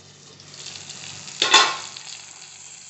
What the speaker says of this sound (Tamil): வெங்காயம் தக்காளி நல்லா வதங்கிருச்சு.